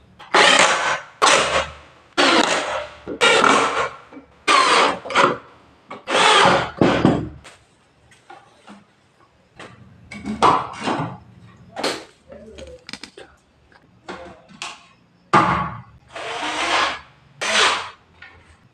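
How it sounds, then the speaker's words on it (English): Wooden clothes rack being assembled with screws, a power driver whirring in repeated short bursts that run loud and close, with brief pauses between screws. "Now it's time to assemble everything with screws."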